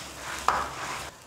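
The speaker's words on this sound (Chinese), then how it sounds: "把它刨到一边，下入宰好的泡椒末，再加一点四川豆瓣，先给它炒出香味跟颜色来" Pork ribs are stir-fried in a wok with chopped pickled chilies and Sichuan bean paste, a steady close sizzle broken by one sharp scrape of the spatula.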